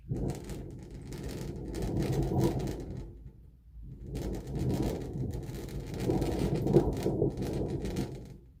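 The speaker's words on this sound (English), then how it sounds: "I did a little bit of a thunder action." A deep, low rumbling roar swells, fades out briefly around the middle, then returns and builds again, like thunder with no voices.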